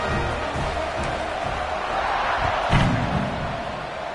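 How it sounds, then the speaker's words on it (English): Steady, dense crowd noise at a football stadium hums along continuously, with a brief swell of louder voices in the middle. "this crowd is buzzing after that last score"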